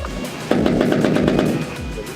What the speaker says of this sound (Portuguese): está equipado com um sistema de armamento que passa, por exemplo, pela utilização de artilharia de curto alcance